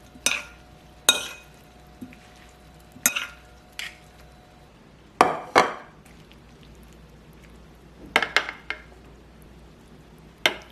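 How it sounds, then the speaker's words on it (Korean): Eggplant being tossed with a soy sauce seasoning, heard as scattered utensil clinks and scrapes against a bowl, several sharp taps spaced irregularly, close and fairly quiet with no talking. "가지를 모두 넣어 간장 양념과 잘 섞어주면 완성이에요"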